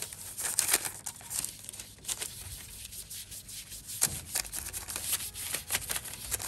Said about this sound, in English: we're going to oil inside the baking parchment also